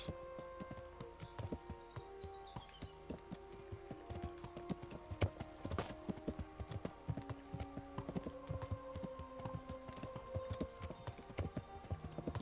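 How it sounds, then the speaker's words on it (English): Horse hooves clip-clopping in the medieval video game Kingdom Come: Deliverance, a steady run of close, sharp hoof taps in an even walking rhythm with faint background ambience, no talk. "It's a horse."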